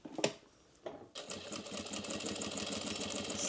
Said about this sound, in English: Going to back stitch and then up to the top, leave my needle down, pivot